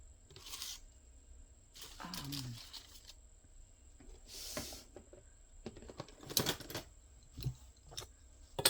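Scissors cutting paper ephemera in a few short, separate snips and crisp tearing bursts, close and fairly quiet, with pauses between cuts.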